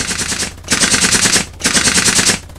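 Two long bursts of aircraft machine gun fire in the War Thunder video game, loud and close, separated by a short pause with no talk over them.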